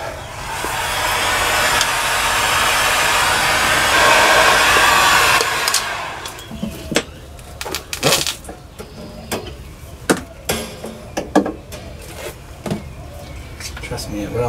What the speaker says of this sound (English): Get on here and heat shrink that down.